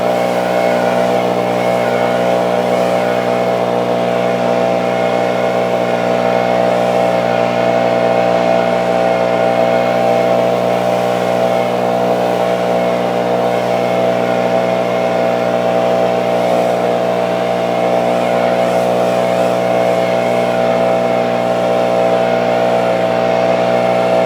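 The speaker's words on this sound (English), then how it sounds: "So we jumped all the way to the BR 600, which is a 32 Newton blower." A Stihl BR 600 backpack leaf blower, a 32 Newton gas model, runs at steady full throttle for the whole stretch, a loud, close, unbroken engine drone with an airy rush and no change in pitch.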